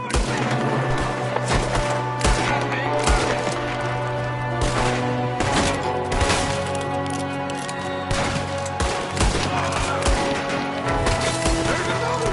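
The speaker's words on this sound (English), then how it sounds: "there's another one shooting from the window" Gunfire from a shooter at a window in Red Dead Redemption 2, a dense, loud barrage of overlapping gunshots and cracks with game music beneath, continuing without a break.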